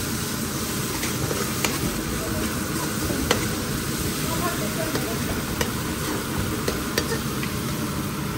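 Masala with about four small spoonfuls of yogurt and chopped tomato sautés for shrimp biryani, giving a steady, dense sizzle and hiss with scattered stirring clicks, close and continuous throughout.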